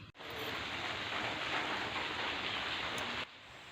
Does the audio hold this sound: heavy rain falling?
yes